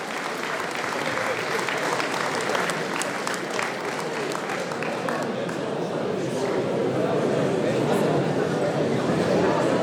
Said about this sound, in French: On peut l'applaudir comme il se doit.